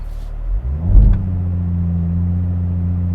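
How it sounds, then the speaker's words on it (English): A 2021 Toyota Supra revs hard with traction control off during a brake-torque launch. The engine surges loudly up, then settles into a steady, deep, close droning hold. "Turn the traction off. I'm going to brake torque it."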